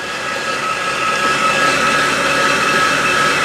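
A new backpack leaf blower runs outdoors, a steady, fairly loud whining roar that holds without a break, with no voices over it.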